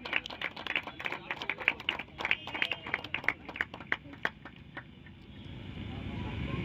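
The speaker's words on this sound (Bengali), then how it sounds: "একটা জোরে করতালি হয়ে যাক।" A village crowd at a football tournament opening claps in a quick burst of many hands, fairly distant and lively, tapering off into a low murmur of background noise by the end.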